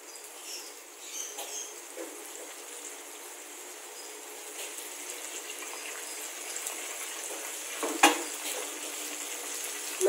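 Squid fries in hot oil with a steady, hissing sizzle and light crackling pops, close and even throughout, with one brief louder crackle near the end.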